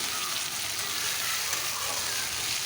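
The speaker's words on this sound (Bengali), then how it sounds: "ভালোভাবে ভেজে নিচ্ছি" Spice paste sizzling steadily in hot oil for a mustard rohu fish curry, a dense, continuous frying hiss that stays even and close throughout with no voice over it.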